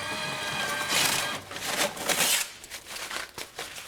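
A paper towel is pulled from a dispenser and crinkled in the hands after a hand wash, giving brief close rustling and crackling bursts with no voices.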